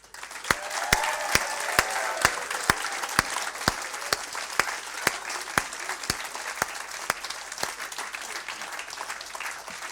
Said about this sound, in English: a massive round of applause for Ant